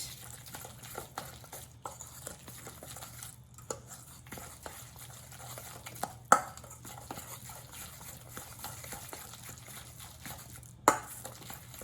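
Soft wet squishing and stirring as food is worked by hand, quiet and close, with an occasional sharp tap or knock against a bowl.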